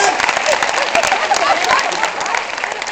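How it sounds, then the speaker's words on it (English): Audience clapping at a film premiere in Hamburg, dense and loud throughout, with a voice faintly under the applause. "And so clap for yourself just now."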